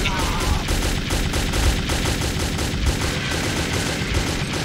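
Steady, loud gunfire in Metro 2033, dense repeated shots hammering almost continuously, with a pistol among the weapons, sounding close and filling the whole stretch.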